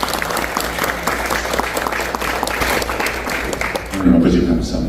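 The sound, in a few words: audience applause at church seminar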